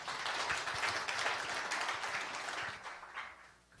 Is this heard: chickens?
no